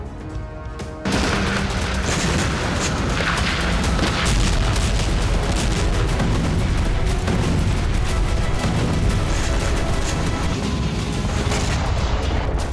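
Heavy blasts and gunfire on the Kursk front in the Russia-Ukraine war near advancing Russian troops: a sudden loud onset after one second, then dense continuous booming and crackling rumble throughout.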